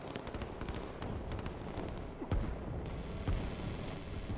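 Artillery guns fire in the strategy game Line War, dense repeated booms and gunfire crackle rolling on steadily with a couple of heavier blasts standing out, no talk over it.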